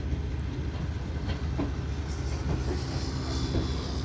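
Two trains pass each other on a loop without stopping, heard from aboard the Shalimar Express between Lahore and Multan as a steady loud rumble with faint wheel clatter and no talk.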